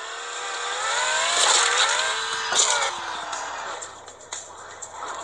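A car in Turbo Dismount revs and accelerates, its engine pitch climbing and wavering loudly, with a few clunks and bumps as it drives off on its own.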